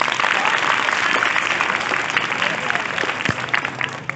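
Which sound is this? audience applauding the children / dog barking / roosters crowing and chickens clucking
audience applauding the children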